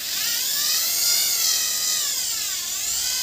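Makita cordless drill spinning in reverse to open its chuck, a high, steady motor whine up close that rises and dips slightly in pitch, heard alone without talk.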